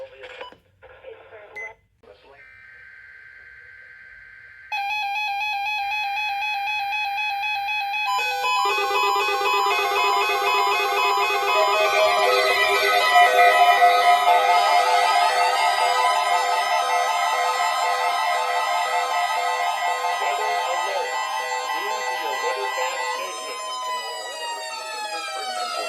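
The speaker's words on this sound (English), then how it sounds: "Receiving tone signals were a test of the alarm device of this weather radio station." Emergency Alert System weather radio alert tones relayed over an AM station: short data bursts and a two-tone attention signal, followed by sustained, loud layered warbling tones that hold steady and fade near the end, with no talk over them.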